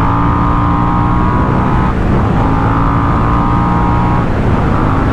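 Moto Morini Corsaro 1200 ZT motorcycle engine while riding, a loud steady droning roar with a brief dip as the rider changes gear, dominated by wind and engine noise.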